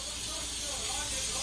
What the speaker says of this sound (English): So I'm gonna spray this with some cooking spray in order so it won't stick.